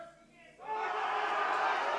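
Crowd at the World Bench Press Championships 2021, men's classic 93-120+ kg, swelling from a low murmur into a loud, sustained roar of cheering as a lifter attempts a world record bench press.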